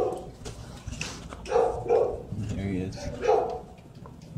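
Dog at a humane society shelter giving a few short barks and yips mixed with soft whimpers, heard under a man's ongoing praising speech nearby.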